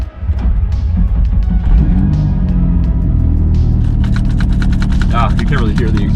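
A Nissan 350Z engine starts up, then settles into a loud, steady rumble, with sharp clicks and short broken sounds heard over the running engine.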